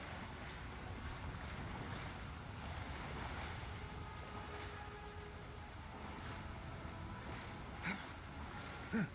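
Water from a waterfall in the fantasy game Avowed rushes in a steady, broad wash at low level, with a couple of faint clicks near the end.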